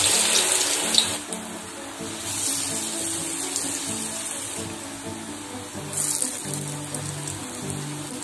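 Vada batter frying in hot sunflower oil gives a steady, close crackling sizzle that runs throughout with small bursts of spatter. A low, droning background sits underneath, and no one speaks.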